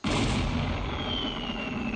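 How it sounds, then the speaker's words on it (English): A cartoon cannon fires a contestant off on a reality competition show: one loud, sudden blast right at the start, then a long roaring, whooshing tail with a falling whistle fading slowly over two seconds, with no talking. "this season's humiliating way home, the cannon of shame."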